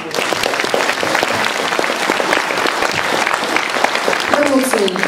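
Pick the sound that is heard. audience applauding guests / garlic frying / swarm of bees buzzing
audience applauding guests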